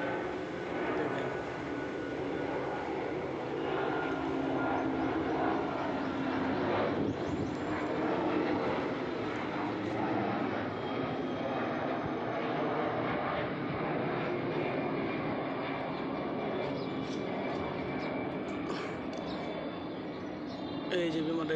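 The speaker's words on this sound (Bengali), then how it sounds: "এই যে বিমানটা এদিক দিয়ে বাহিরে যেতেছে" An airplane passes overhead in foggy weather, heard from a rooftop as a continuous broad engine roar and rushing drone that holds steady and fairly loud for the whole stretch.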